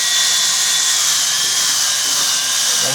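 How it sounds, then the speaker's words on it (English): A small rotary tool hand-polishes between the prongs of a four-prong diamond setting, giving a steady, close, high-pitched whir that continues unbroken. "Now we're going to hand polish in between them prongs."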